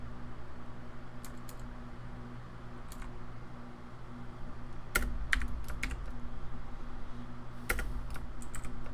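Clicky typing on a computer keyboard in short bursts of keystrokes, close and fairly quiet over a steady low fan hum.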